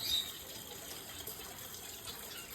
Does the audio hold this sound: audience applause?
no